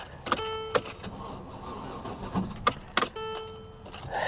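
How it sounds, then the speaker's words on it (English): A 2013 Mercedes E350 4MATIC tries to crank on a booster pack with an engine that seems partially locked up, giving a few short, separate whirring clunks with pauses between them, close and fairly loud, no voices. "The engine sounds like it's partially locked up."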